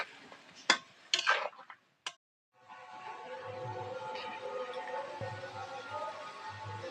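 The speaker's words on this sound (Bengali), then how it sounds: "এবার এই বেগুনগুলো যে আগে থাকতে হালকা করে ভেজে নিয়েছি সেগুলো দিয়ে দেবো। দিয়ে নাড়ি চাড়িয়ে নেবো।" Lightly pre-fried eggplant pieces go into a pan and are stirred, first with a few sharp clinks and clatters of a utensil, then a steady, moderate sizzle of frying that carries on to the end.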